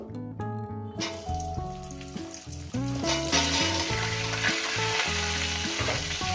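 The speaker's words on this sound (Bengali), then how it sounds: "এবার ওই তেলে দিয়ে দেবো এঁচুরগুলো" Raw jackfruit pieces go into hot oil already used for frying potatoes, setting off a continuous hissing sizzle that grows louder partway through, with background music playing over it.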